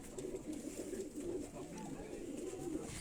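Teddy breed pigeons in a loft coo steadily in low, repeated murmurs under a constant background hiss, with several birds overlapping at a moderate distance.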